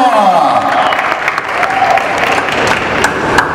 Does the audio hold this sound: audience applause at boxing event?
yes